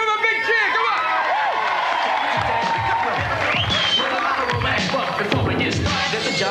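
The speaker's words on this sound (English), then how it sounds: "Here we go, Andy Ruffle demo, give him a big cheer, come on!" Crowd at a BMX stunt demo cheers and shouts, with excited voices, whoops and scattered claps layered over general hubbub, loud and close throughout.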